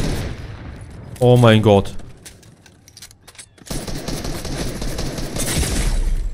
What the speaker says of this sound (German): Ich habe geschossen.